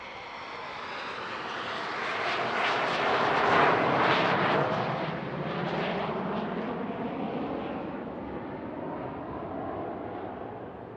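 Two FA-18F Super Hornet jets of Strike Fighter Squadron 213 roaring overhead at a WWII anniversary flyover, a loud broad engine rumble that swells to a peak and then slowly recedes.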